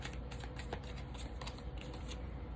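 Tarot cards being shuffled up close, a quick run of crisp riffling flicks over a steady background hum, with no voice.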